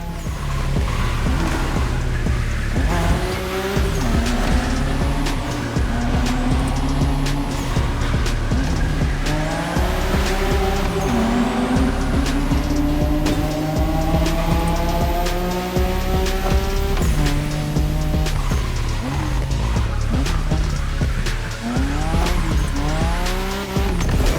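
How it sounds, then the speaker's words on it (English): Tires squeal continuously as a Nissan Skyline R32 GT-R drifts in a racing video game, the engine revving and shifting under long, rising skid screeches that run loud and unbroken throughout. "Don't you forget, it's all about drifting."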